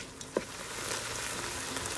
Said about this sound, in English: We're going to cook this onions and garlic for about 2 minutes.